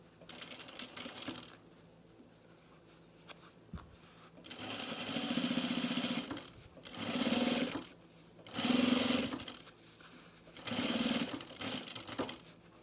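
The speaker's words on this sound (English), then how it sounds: "Line them up and sew across and try and keep this nice and straight." A sewing machine stitches across the edges of a blazer pocket in several sustained bursts separated by short pauses, running close and steady with no talking.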